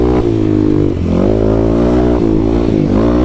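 A 2021 Kawasaki KLX300 dirt bike fitted with a Power Commander revs hard and loud, up close, with its pitch rising and dipping as the throttle changes, and no talk.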